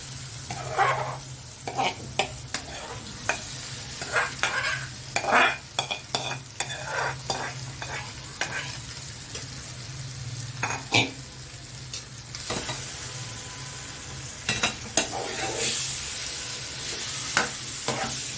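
Mashed pav bhaji vegetables being stirred in a pan with a little water as they fry, giving a steady soft sizzle under repeated scraping and stirring strokes, with no talking.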